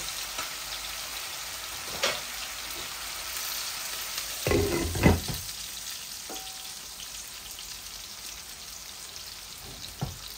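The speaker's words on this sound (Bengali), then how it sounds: "আর একটু আমার মশলাগুলা ভুনা হয়ে যাক।" Spices and mustard paste frying in a pan for a Bangladeshi fish curry, a steady soft sizzle with a few louder stirring clatters near the middle, close by and with no talk.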